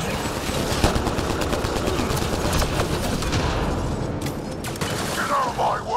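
Sustained rapid gunfire in the sci-fi shooter game Mass Effect Andromeda, a dense continuous rattle of shots over mechanical din, with brief voices near the end.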